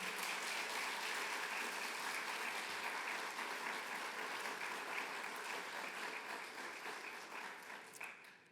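An audience applauds at a white coat ceremony, with sustained, even clapping filling the hall that slowly thins toward the end, no talking over it.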